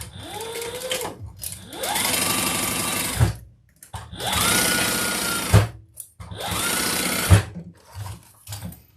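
A sewing machine basting fabric pieces for a modified Aries garment, running in three sustained bursts of rapid stitching with short pauses between, close and fairly loud.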